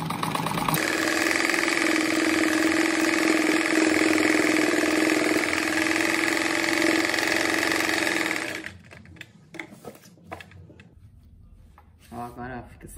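An electric sewing machine runs at a steady, fast hum while stitching a seam on a pointed-edge rug, then stops, leaving quiet handling noises and a few clicks.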